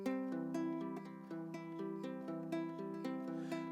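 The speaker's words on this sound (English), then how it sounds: "Finally, it's the inside-outside Travis picking." Baritone ukulele played in an inside-outside Travis picking pattern, a steady alternating run of plucked notes with a moving bass under the melody, close and clear, with no voices.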